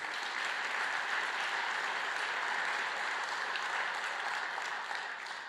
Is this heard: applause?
yes